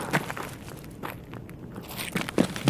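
Quick footsteps of a character running in Escape from Tarkov, a few soft crunchy steps spaced irregularly, fairly faint and close, with no talk over them.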